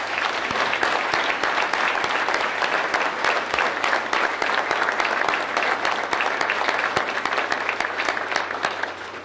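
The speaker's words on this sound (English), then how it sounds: "why don't we give everybody another round of applause" A full audience applauds the inductees at a college athletic hall of fame ceremony, dense sustained clapping that holds for several seconds before tapering slightly at the end.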